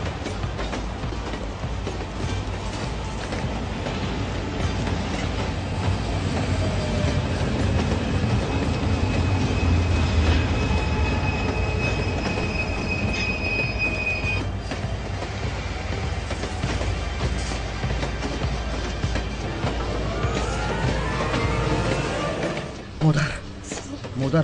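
A train moving on rails, a loud, continuous rumble with rhythmic clickety-clack from the wheels and thin squealing tones that rise and fade, running steadily throughout.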